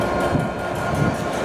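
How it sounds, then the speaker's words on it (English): Train rolling along a platform on the line to Matlock, a brief steady rumble of wheels and carriage noise at moderate volume. "this is our next train to Matlock"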